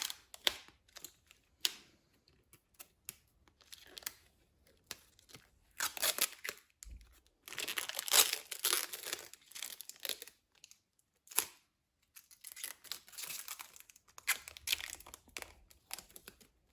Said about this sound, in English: it's a good idea to take the plastic cover off before you put the controls on